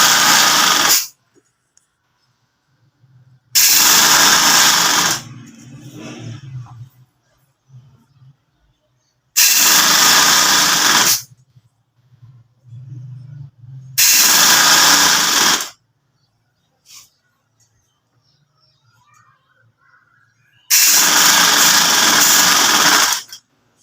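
A sewing machine stitches a shalwar waistband above the elastic in four loud, steady bursts of a few seconds each. Quieter handling of fabric and parts fills the pauses between them.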